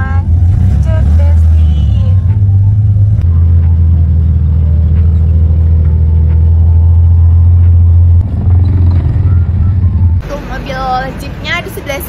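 At night, a traffic jam of jeeps and cars heading uphill gives off a deep, steady idling rumble close by, with engine tone shifting occasionally, while someone talks; a brighter, noisier passage follows near the end.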